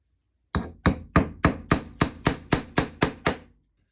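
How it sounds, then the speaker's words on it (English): Ten sharp, evenly spaced hammer taps drive small nails into a wooden board for pineapple string art, close and crisp, each strike ringing briefly before the next. "you're going to go through and you're going to hammer all the way around"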